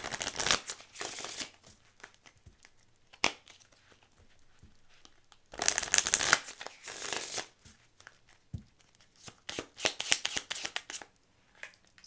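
Oracle cards being shuffled and drawn from a deck by hand: bursts of riffling and sliding card noise with soft taps and rustles in between, close and fairly quiet, with no voice.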